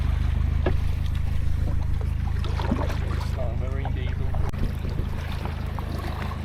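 Waves wash against a Gumotex Rush 1 inflatable kayak on a canal near Retford, a continuous watery rush with wind noise on the microphone and someone talking over it.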